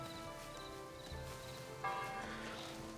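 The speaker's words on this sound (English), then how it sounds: "I'll just pause the recording when the bell starts ringing" A church-like bell rings faintly and steadily in the background of Foundation city-building gameplay on an Oceanside map, soft tones layered over a low ambient bed with no one talking.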